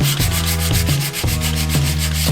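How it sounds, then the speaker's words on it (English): Sandpaper rubs back and forth across the wooden body of a Telecaster guitar, loud and close, in a quick steady rhythm of about four strokes per second with a droning hum underneath. "I'm gonna go ahead and start sanding this body down."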